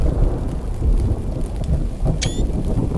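Rain and a low rumbling thunderstorm fill the scene in the video game Jaws of Extinction, a steady wash of rainfall with a brief sharp crackle of lightning near the end.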